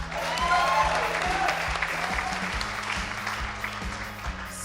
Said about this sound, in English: Let's also applaud them.